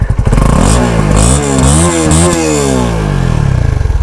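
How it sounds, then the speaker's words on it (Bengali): A Honda CB 150R Exmotion with an underbelly exhaust revs loudly up close, its engine note climbing and falling through several throttle blips before settling into a steady idle. "আর এটার যে এক্সজস্ট, আন্ডারভ্যালি এক্সজস্ট দেওয়া হয়েছে"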